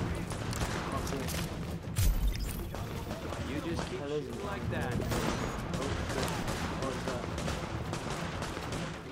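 Steady gunfire fills a firefight in The Division beta, overlapping shots and bursts running continuously at moderate loudness while players talk excitedly over it.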